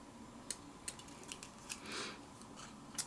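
Scissors snip through paper while trimming Anna Griffin Christmas decoupage characters, giving about nine crisp, close cuts in an uneven rhythm, with one longer slicing stroke in the middle.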